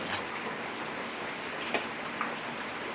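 Rain falls steadily outdoors, a close, even hiss of drops with a couple of sharper ticks from drips striking a surface.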